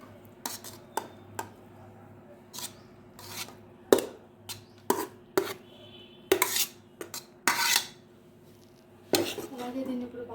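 Spoon scraping and clinking against a metal pot as boiled rice is mixed for tamarind pulihora, a series of sharp, irregular knocks and scrapes close by over a low steady hum.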